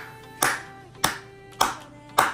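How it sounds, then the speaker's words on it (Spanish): Four slow, evenly spaced hand claps ring out crisply over a faint musical background, each sharp and close. "Aplauso"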